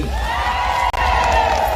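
A large outdoor crowd at a Samburu county gathering cheering and whooping loudly and continuously, a dense wall of voices with a brief cut midway.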